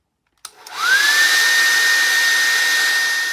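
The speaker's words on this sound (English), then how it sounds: "I'm using a hairdryer, and I'm going to heat this all over for" A handheld hairdryer switches on and blows steadily at close range while heating a pair of sneakers being customised, a continuous whooshing airflow with a rising whine that settles into an even tone, no voices.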